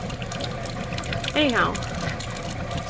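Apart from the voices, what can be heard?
water running from camper faucet with water pump on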